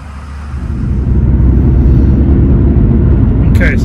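A Vauxhall Meriva on new, larger tyres drives along with a loud, steady low engine and road rumble that builds over the first second and then holds, heard from inside the car.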